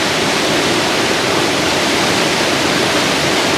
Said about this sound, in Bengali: জলটা এদিক থেকে আসতেছে, এই জলটা মারবে এখন